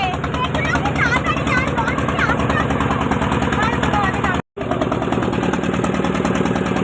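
A motor boat engine runs on a boat trip at Jharkhali, giving a loud, steady chugging drone throughout with one brief cut. People talk over the engine noise.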